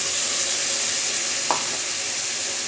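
Ground spice paste sizzling as it hits vegetables frying in a pan, a steady close hiss with one brief clink of stirring partway through, nobody speaking.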